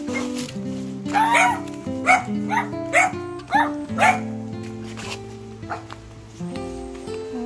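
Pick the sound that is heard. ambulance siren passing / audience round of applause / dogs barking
dogs barking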